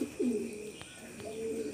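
Teddy breed pigeons cooing softly, a few low rolling coos close by in a quiet loft.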